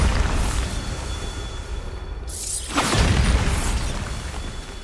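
A Bombarda spell going off in the Hogwarts Legacy video game, heard as a swelling whoosh that breaks into a heavy, booming blast with a rumbling tail. There is no talking.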